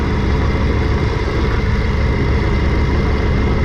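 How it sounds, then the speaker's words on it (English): A vehicle engine held under throttle on a dyno, a loud steady low roar with a constant drone and no clear change in pitch, close and continuous throughout. "My dad over here is gonna go ahead and give it some throttle"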